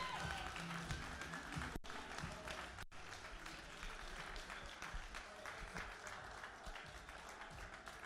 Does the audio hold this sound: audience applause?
yes